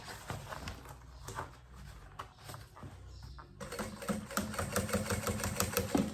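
Sewing machine stitching the lining of a banana bag, rapid needle clatter that pauses briefly midway and then resumes louder and steadier.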